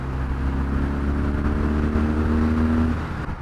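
A motorcycle rival to the BMW R nineT accelerating on the road, its engine note rising steadily in a smooth droning pull over rushing wind, loud and close, then easing off.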